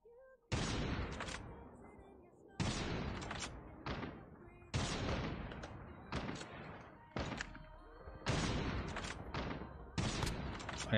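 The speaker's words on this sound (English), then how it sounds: "someone's shooting on my left" Gunfire in Call of Duty Mobile comes in several loud, sharp bursts separated by short pauses, each one hitting hard and fading quickly, close and alone without talk.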